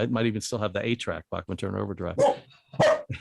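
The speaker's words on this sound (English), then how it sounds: "Sorry, that's my dog Jenny." A pet dog named Jenny barks a few short times in the background, partly masked by someone talking over it indoors.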